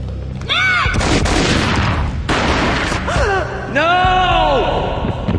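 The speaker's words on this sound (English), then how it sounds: "A gunshot boomed and she fell down in slow motion." A gunshot booms in the Max Payne Mobile video game amid loud, busy game audio, with dense broadband bursts and echoing effects, plus voiced cries and gasps from a woman and others throughout the scene.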